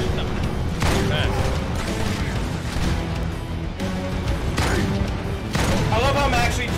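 Sniper rifle shots in Halo 2 on Legendary, set among game combat, come as loud, sharp reports and booming impacts over dense action noise, with no speech.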